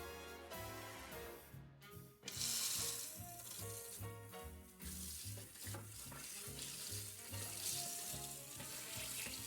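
A cookie scoop being rinsed of chocolate under a running kitchen tap, with a steady hiss of flowing water and a faint rhythmic knocking underneath, close and continuous and without talk.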